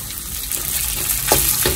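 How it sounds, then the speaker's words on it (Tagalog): Cooked rice frying with garlic and chili flakes in a pan for tapsilog garlic fried rice, a loud close sizzle with scraping stirring strokes near the end. "So isangag na natin to, haluin na natin ng higit para mas masarap"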